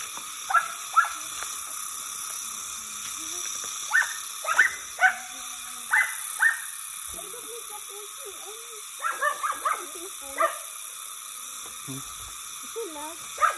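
Dogs bark from below a campsite in Real, Quezon, a scattered series of distant yaps and bow-wows over a constant insect drone, with people talking nearby.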